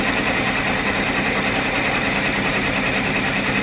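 A Melco multi-needle embroidery machine sews an appliqué bean stitch, giving off a steady, dense mechanical whir and rapid needle chatter that stays loud and even throughout, with no talking.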